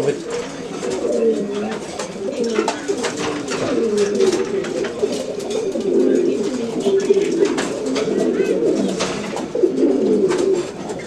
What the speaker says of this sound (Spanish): un poco de las palomas.